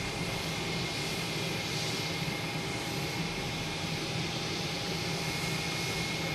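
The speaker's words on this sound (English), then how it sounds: "Turkish Airlines coming in from Istanbul. An A350-900." A Turkish Airlines Airbus A350-900 jet arriving from Istanbul at Boston Logan Airport, heard as a steady, broad engine roar that holds evenly throughout, moderately distant with no talking.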